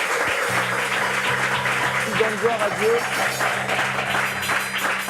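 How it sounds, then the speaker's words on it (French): An audience at a church testimony service applauds the pastor. The clapping is steady and moderately loud, and a voice speaks over it partway through. "Acclamation pour le pasteur consultant"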